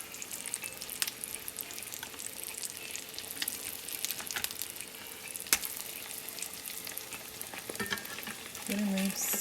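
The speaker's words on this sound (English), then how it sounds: "I'm really going to work around and make sure it's good and loose and sliding around the pan." An egg frying in a pan for eggs over medium while a spatula works it loose, giving a soft steady sizzle with scraping and tapping strokes of the utensil and a brief louder hiss near the end.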